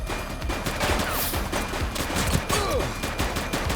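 Dense gunfire from a police shootout in The Precinct on PS5, rapid overlapping shots and bursts filling the whole stretch, loud and close with no pause between volleys.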